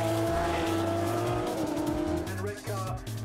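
Porsche GT3 Cup race cars pulling away at a race start at Croft circuit, a loud layered engine roar with revving and gear changes as the pack accelerates, under a commentator's talk.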